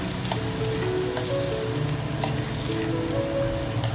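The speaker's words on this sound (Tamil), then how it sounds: "இது எல்லாத்தையும் சேர்த்து நல்லா கிளறி விடுங்க" Cooked moong dal sundal being stirred in a hot pan, a steady close sizzle with spatula scrapes and faint clinks at intervals, no voices.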